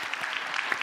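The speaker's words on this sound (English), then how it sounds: "I'm clapping for the audience" Audience applause at a panel session at PAX East, a brief burst of dense crowd clapping, steady and moderately loud.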